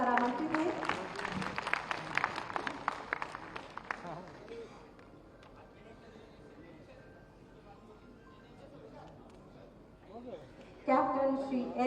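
A crowd applauds at a statue unveiling held on the death anniversary of former Prime Minister Atal Bihari Vajpayee. The dense clapping is moderately loud for about four seconds, then thins and fades under voices.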